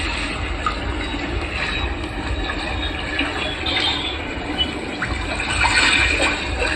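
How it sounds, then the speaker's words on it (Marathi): A gramophone-style aroma diffuser gives a continuous flowing, trickling water sound, close and steady with slight swells in level throughout. "कसला येतो पाण्याचा आवाज?"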